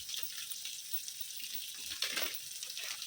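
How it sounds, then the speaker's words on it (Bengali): Boiled, salted potatoes fry with cumin and spices in a pan, a soft continuous sizzle with faint stirring scrapes and a brief louder burst partway through, quiet and without talk. "একটুখানি দিয়ে ভাজা করে নিই আলুটা"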